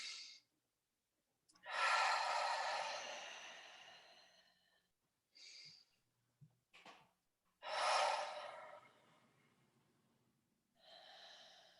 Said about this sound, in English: And a deep breath in.